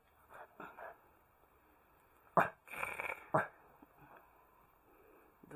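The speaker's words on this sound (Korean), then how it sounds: "누나가 뭐라 했다고 짖는 거야? 으르렁 대는 거야?" Dog indoors giving a few short, fairly quiet growls and barks in separate bursts, close to the microphone, with faint human vocal sounds in the background.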